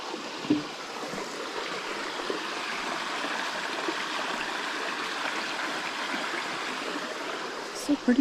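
A mountain stream flows steadily along the Appalachian Trail in Virginia near Glasgow, heading toward the James River, a constant broadband rush with a few brief knocks near the start and end.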